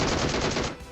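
Rapid automatic gunfire from PUBG Mobile gameplay, a dense loud burst of shots that cuts off near the end, leaving quieter game ambience.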